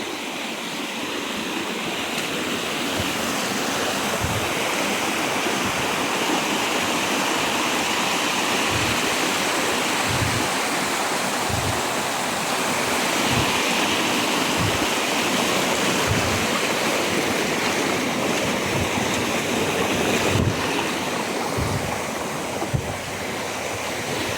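A strong current of flowing water rushes loudly and continuously, a dense, even roar with no pauses from start to finish.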